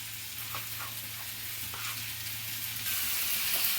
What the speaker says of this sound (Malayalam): തക്കാളി കൂടി അതിനകത്തിട്ട് വഴക്കുകയാണ്